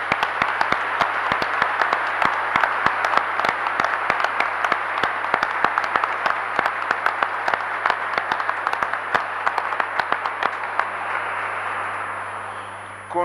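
Sustained applause from a congregation at a Catholic priest's ordination, dense steady clapping filling a church for over ten seconds under a constant low organ-like hum, tapering slightly at the end.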